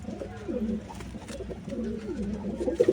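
Pigeons in a loft coo softly and repeatedly while their wings are being clipped, a close, low, burbling chorus with faint handling noises and no clear talk.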